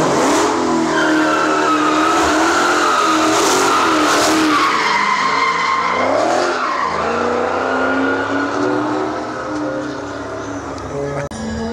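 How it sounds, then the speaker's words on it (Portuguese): A Dodge Charger at a Las Vegas exotic-car racing track skids to a stop, with loud sustained tire squeal and engine roar close by, sweeping in pitch as it slides, then idling as a voice speaks over it. "Antes daquele Charger chegar, porque é aqui que ele para"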